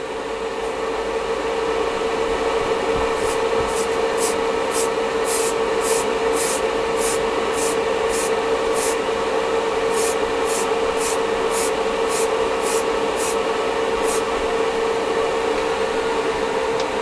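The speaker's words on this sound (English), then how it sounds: "Just spray the damn thing, Frank." Continuous hiss of a spray gun applying Revell chrome spray to model kit parts over the steady drone of an air compressor, with a run of rapid high clicking pulses partway through. No talking.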